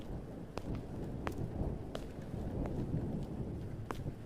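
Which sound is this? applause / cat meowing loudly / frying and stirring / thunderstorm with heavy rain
thunderstorm with heavy rain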